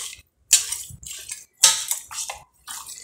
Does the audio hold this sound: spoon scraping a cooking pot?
yes